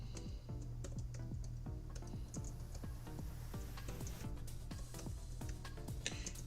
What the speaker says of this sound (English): am I ever typing slow today